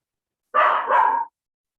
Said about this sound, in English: Whose dog is that, Lori?